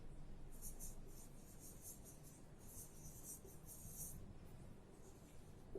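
Chalk or marker writing on a board during an aviation meteorology class, heard as faint, steady scratchy strokes in short repeated bursts against a quiet room hiss, with no talking.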